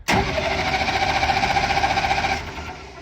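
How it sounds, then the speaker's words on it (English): A starter cranks a military engine after a sharp click, giving several seconds of steady, even chugging turnover that does not catch and then slows. "I'll show you that this does turn over."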